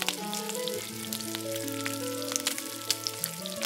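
Egg bondas fry in hot oil with a dense crackling sizzle that runs throughout, while sustained tonal music plays over it.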